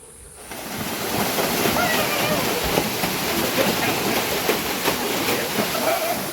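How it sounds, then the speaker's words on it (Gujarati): A waterfall and river in a forest near Pavagadh roar loudly and continuously, a dense, close rushing wash that rises within the first second and holds steady throughout. "તો મસ્ત નહીં લીધું અહીંયા વોટરફોલ"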